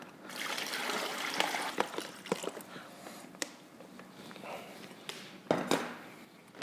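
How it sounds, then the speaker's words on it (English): Water poured into a brine bag holding a turkey, a steady trickling splash with occasional sharper plops and crinkles of the bag, close and moderately loud. "we're looking to add 6 quarts of water to the brine over the turkey"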